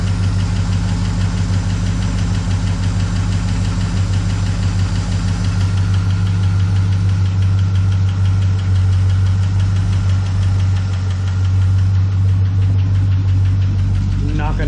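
A 1969 IHC Scout engine idles close and loud, with a steady rhythmic valve knock ticking through the low rumble.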